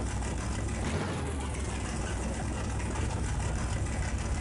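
A video-game car engine idles and roars in a steady, dense drone, short and moderately loud with no voices over it.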